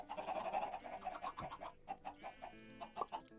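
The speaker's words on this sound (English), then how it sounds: "And my many chickens." Minecraft chickens cluck in quick, soft bursts, several birds close together. The rapid pulses run over a few seconds and sound faint, with nothing else in the background.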